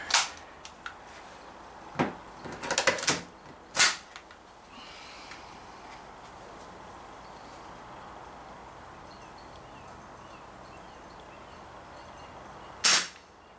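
Daisy 340 BB pistol firing: several sharp, snappy cracks, a few spaced shots early on and one more near the end, with quiet gaps of room tone between them.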